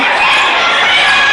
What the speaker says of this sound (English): You can hear the crowd in the background trying to rally this Riverdale team